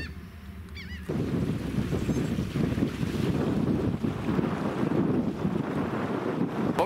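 Wind sweeping over open, rippling water from a bowfishing boat on an overcast day: steady, loud rushing wind buffeting the microphone, with brief honks early on and no voices.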